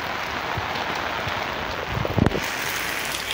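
Heavy rain falling in Passira, Pernambuco, a steady dense hiss of downpour close by with a few louder splashing patters near the end.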